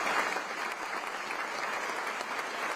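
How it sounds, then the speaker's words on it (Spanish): An audience applauds steadily after a cello performance at the Cervantino festival, dense continuous clapping like a downpour with no voices. "la sonrisa eterna ante el sonar de las palmas como aguacero"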